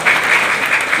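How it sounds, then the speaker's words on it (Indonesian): Close, loud applause from an audience at a political party declaration event in Jakarta, dense steady clapping that fills the whole short moment. "Tepuk tangan."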